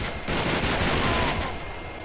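Pistol fire in Uncharted 3: Drake's Deception, a burst of loud, close shots running together into a dense rattle, strongest through the middle and fading toward the end.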